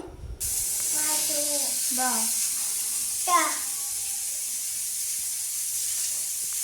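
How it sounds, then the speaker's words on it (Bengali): Fish fries in a home kitchen pan with a constant loud hissing sizzle, while young children's voices chatter and squeal faintly in the background. "মাছ ভাজা বসিয়ে দিয়েছি"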